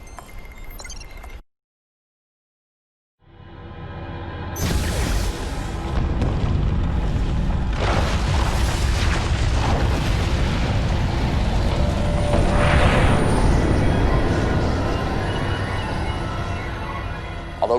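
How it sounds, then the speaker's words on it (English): Video game cutscene from Command and Conquer 3: Tiberium Wars, where a blast at a temple sets off a hidden liquid Tiberium deposit; after a brief silent gap a massive explosion booms and rumbles, with crackling debris and roaring sustained for many seconds. "the explosion also detonated a liquid Tiberium deposit hidden beneath the temple itself"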